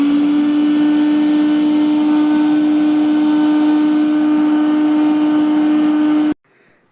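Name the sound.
mixer grinder blending cream into butter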